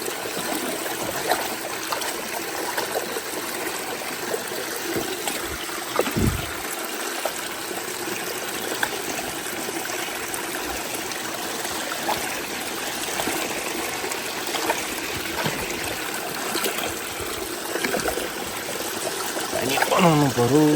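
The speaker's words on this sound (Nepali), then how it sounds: "वाटरफल दामी छ ल माथिदेखि आउँछ पानी" Water streams steadily down a small waterfall outdoors, a constant close rushing wash filling the whole stretch, with faint bits of voice underneath.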